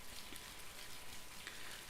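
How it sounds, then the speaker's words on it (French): Steady, even rainfall hisses softly as a continuous background, with no talk over it. "écouter mieux la lecture avec le fond de la pluie"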